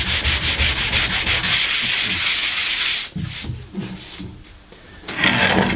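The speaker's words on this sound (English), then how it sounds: "So I'm just going to give this a little rub over with some P120." Water-finished plywood being hand sanded with P120 sandpaper: close, loud continuous rubbing strokes in a steady rhythm, pausing briefly before resuming with a few lighter scuffs and then a strong final burst.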